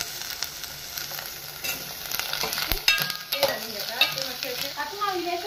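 Cut drumsticks tumble into a hot pan for prawn curry and get stirred, bringing loud sizzling, scraping spoon strokes and clattering bursts over a steady frying hiss, close by.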